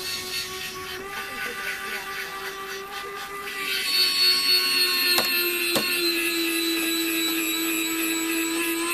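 Electric tail gear doors on a model aircraft closing under switch control, a steady whirring electric motor drone with a tone that rises and shifts partway through, broken by a couple of sharp clicks, close and continuous.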